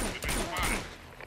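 Pistol gunfire in the video game Uncharted 2: a couple of sharp, loud shots in quick succession over a busy game soundscape, with a voice faintly present.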